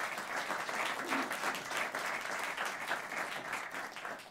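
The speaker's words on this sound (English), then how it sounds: "Let's give them a round of applause." A round of applause from an audience at a governor's announcement with a memorial commission, steady dense clapping throughout at moderate distance, with no one speaking over it.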